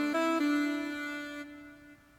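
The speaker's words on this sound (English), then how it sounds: "I'm using Sax Lab for the sax, and it sounds like this" A sampled saxophone from the Sax Lab plugin in FL Studio plays a short phrase of two quick notes and then a longer held tone that fades out softly. It is quiet and sounds alone.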